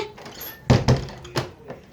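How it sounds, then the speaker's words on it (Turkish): A door is pulled shut indoors with two heavy thunks close together, then a softer knock and a faint tap as it settles, with no voices. "Kapıyı kapattım çünkü içeriden sesler falan geliyor."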